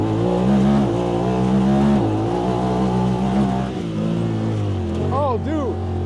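A Honda Talon side-by-side in automatic sport mode and four-wheel drive accelerates hard at an off-road park, its engine loud and close, climbing steadily through the revs for about six seconds, with a few brief voice-like chirps near the end.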